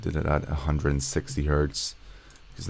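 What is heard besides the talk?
None of the usual background noises is heard.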